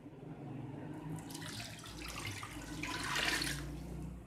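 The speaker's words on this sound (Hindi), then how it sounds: "और इसमें ये 3 कप पानी में डाल रही हूँ।" Water pours steadily, three cups into a pressure cooker for mutton biryani, for a few seconds, swelling into a louder rushing splash toward the end, fairly close.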